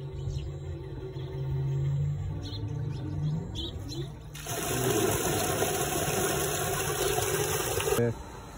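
A solar-powered water pump at a village rice farm switches on partway through, starting a steady, fairly loud broadband whir and rush that runs several seconds before cutting off, over quieter outdoor ambience with faint birds.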